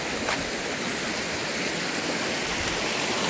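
Fresh stream water rushes steadily over rocks in a lush natural setting, a dense, continuous broadband wash that stays loud and close without breaks or voices.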